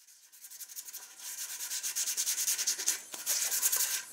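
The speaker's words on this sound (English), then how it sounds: "I go back with some 120 and 220 grit with the grain in order to get it nice and finished" Hand sanding of a wooden mallet handle with 120 and 220 grit sandpaper gives a quick, rhythmic scratching of repeated back-and-forth strokes, close and alone.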